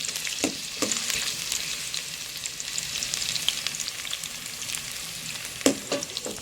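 Onions sauté in a pan for chicken tinola with a dense, constant sizzle, punctuated by a few sharp clinks of a utensil stirring against the pan, close and loud.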